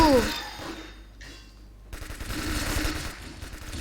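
Rapid bursts of video game gunfire while a character jump-shoots in a Thai online shooter match, a brief loud volley fading into quieter battle noise, then denser shots and effects resuming with talk over them.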